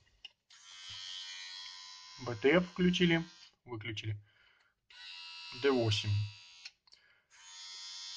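Andis Slimline cordless rotary hair clippers switched on and off, a steady close buzz running in two stretches with short gaps, someone talking over parts of it.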